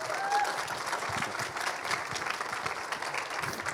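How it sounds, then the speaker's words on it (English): An audience at a conference introduction applauds, with dense, steady clapping from many hands filling the room at a fairly loud level throughout. "he really already deserves a big applause"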